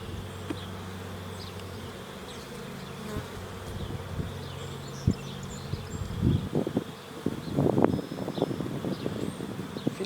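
Honey bees buzz around an open hive during a May beekeeping inspection, a dense steady drone of many insects close by, joined later by rustling and knocking handling sounds growing louder.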